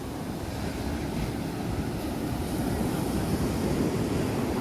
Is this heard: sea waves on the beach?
yes